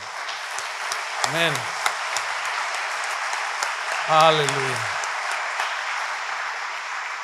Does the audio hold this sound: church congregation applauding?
yes